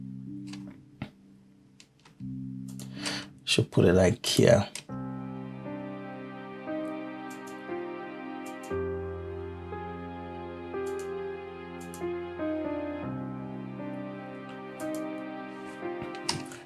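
Sustained string chords from Kontakt in a 3 Step Afro House track, moving through a slow progression of held harmonies with some light percussive ticks. A brief spoken remark breaks in early, then the strings continue alone.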